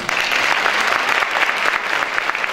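A large audience at a school theatre competition claps enthusiastically, a loud, dense, even wash of applause that carries on without a break.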